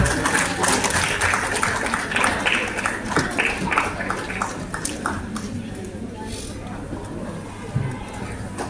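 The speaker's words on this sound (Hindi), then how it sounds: "हम जोरदार ताली से स्वागत करते हैं सर का।" Audience applause welcoming a chief guest onto the stage at an awareness event in an Indian auditorium, steady clapping across the whole span with a host speaking over it.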